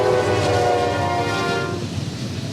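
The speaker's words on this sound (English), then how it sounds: "And as we wait for a train" A train rumbles past close by with a sustained horn blast at the start that fades as the cars roll on, heard outdoors at a small-town Christmas parade.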